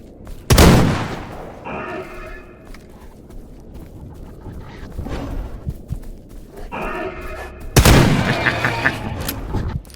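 Gunshots in the video game Stalker Gamma: two loud, sharp blasts several seconds apart, each followed by a ringing tail, over a low ambient rumble with some faint mechanical clatter.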